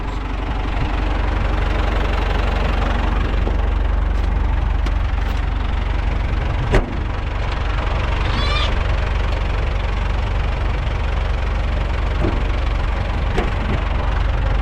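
A tractor engine runs steadily at high revs throughout, a constant loud low-pitched drone with a faint mechanical knock.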